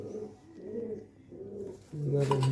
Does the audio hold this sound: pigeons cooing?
yes